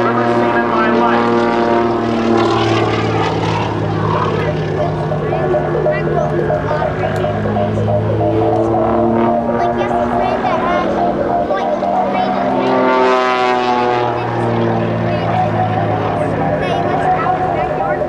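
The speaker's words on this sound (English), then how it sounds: "Look at this incredible biplane that goes faster than any other Waco I've ever seen in my life." A Waco biplane performs at an airshow, its propeller engine droning loud and steady throughout with rising and falling pitch as it passes, while a commentator talks over it.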